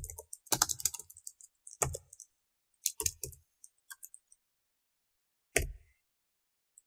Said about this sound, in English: we can just type it in right here